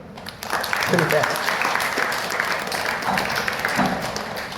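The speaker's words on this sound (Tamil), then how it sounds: "வாழ்த்துனா கைதட்டுங்க." Students at a college national service scheme camp clap together in a crowded hall. The steady clapping is mixed with voices and murmurs, and it stays fairly loud throughout.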